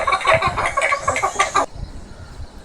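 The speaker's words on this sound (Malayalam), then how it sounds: "കോഴികൾ പൊതുവെ ഉണ്ടാക്കുന്ന ശബ്ദത്തിന് ക്ലക്കിംഗ് എന്നാണ്" A chicken clucks close by in a quick series of short, rhythmic calls for about a second and a half, then falls quiet.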